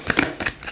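Tarot cards are shuffled in a quick riffle, giving two short papery bursts of flicking and rustling.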